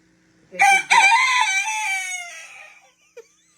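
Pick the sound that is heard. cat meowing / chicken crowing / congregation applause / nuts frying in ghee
chicken crowing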